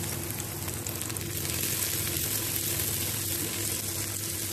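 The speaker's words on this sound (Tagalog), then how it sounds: "Sinasabay ko nga pala ang paggisa sa laurel" Bay leaves sauté in a pan as pork adobo gets started, a soft steady sizzle and crackle of hot oil that stays even and close, fairly quiet, with no voices.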